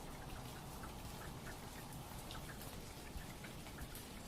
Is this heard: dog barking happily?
no